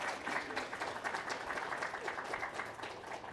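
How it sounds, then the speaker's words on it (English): Live audience applause welcomes a guest onto a stage at the 3DEXPERIENCE World 2026 event, a steady wash of clapping hands that holds at even volume for a few seconds. "Give him a round of applause."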